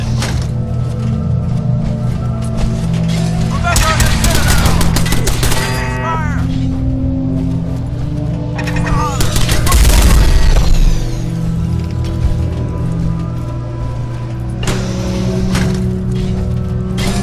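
Automated turret gunfire in Fallout 4, rapid crackling volleys in bursts over a constant droning game background with a sustained hum, loud throughout.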